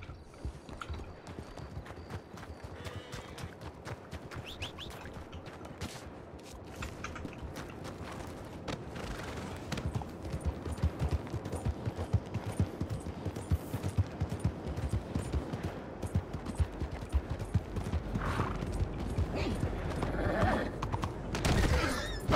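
Horse hooves clip-clop steadily in the RedM roleplay game, a continuous rhythmic trotting that grows louder and denser toward the end, with occasional snorts and faint background voices.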